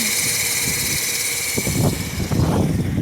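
A steady engine drone from a 2020 Chevy Traverse FWD runs throughout, with gusty wind noise buffeting in the second half.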